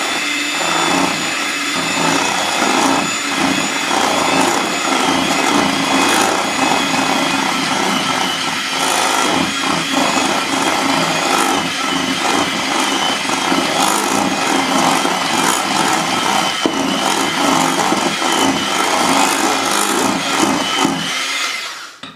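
Chocolate cake batter with milk is being mixed, heard as a loud, steady, close mechanical whir with a gritty churning texture that runs unbroken for over twenty seconds before cutting off at the end.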